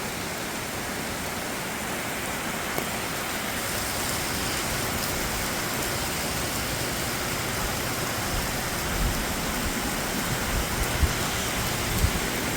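Steady rain pouring down around motorcycle riders sheltering in a small nook along the Tail of the Dragon road, a dense, even hiss throughout with a few faint knocks and no talking.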